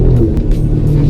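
An Alfa Romeo Giulia Quadrifoglio's twin-turbo engine roars under load, a loud, deep continuous rumble heard close with no talk over it.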